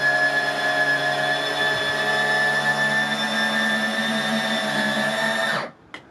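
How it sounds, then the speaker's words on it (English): Electric actuators raise the roof of an off-grid solar-powered workshop, a steady mechanical motor whine with a harmonic hum that runs for over five seconds, then stops abruptly with a small click. "So we added some actuators to it, powered from this button"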